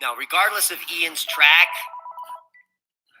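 A telephone rings during a weather broadcast about a hurricane near western Cuba, a pulsing electronic ring that overlaps a man's speech and then continues briefly alone before cutting off.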